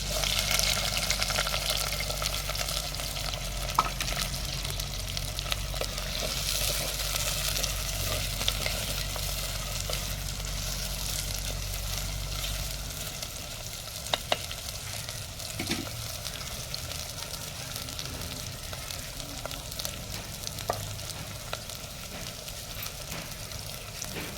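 Onion and green chilies frying in a pan, with a steady broadband sizzle and occasional stirring scrapes; a low rumble fades out about halfway through.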